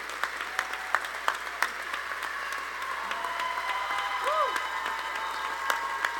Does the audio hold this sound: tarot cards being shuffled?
no